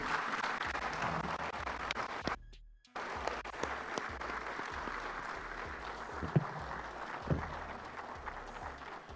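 A large crowd in a parliament chamber applauds steadily for several seconds, with a brief dropout partway through before the dense clapping resumes.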